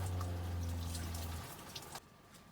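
Shower water running inside a camper van, a steady broadband rush with a strong low hiss that cuts off partway through, leaving quieter dripping and faint rustles.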